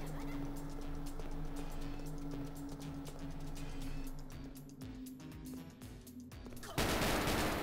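Gunfire in the E.E.R.I.E shooter game: rapid bursts of shots crackle over a dense, steady game soundscape with a droning tone, and a louder, harsher noise swells in at the end.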